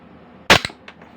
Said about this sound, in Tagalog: Okay, second shot.